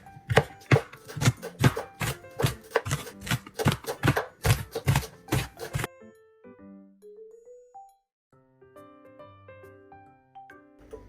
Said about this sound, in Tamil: முதல்ல வந்து இந்த அதாவது மல்லி இலையை வந்து வெட்டி கொள்ள போகிறேன்.